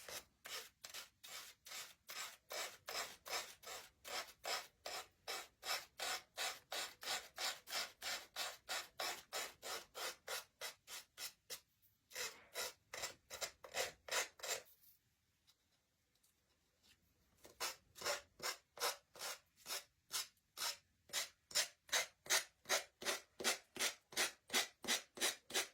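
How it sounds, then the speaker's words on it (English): A Dollar Tree nail file rasping across a wooden pallet sign, a fast regular run of close back-and-forth strokes, briefly pausing twice before resuming at the same brisk rhythm, no voices. "Then I nail file this off"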